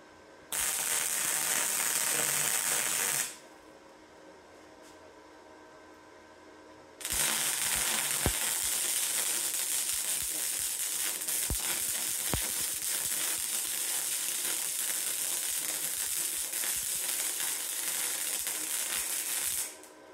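Arc welding on a Harbor Freight Titanium welding table, adding extra metal to a bead: two bursts of steady, loud crackling sizzle, a short one and then a long stretch, separated by a quiet pause, with no talk.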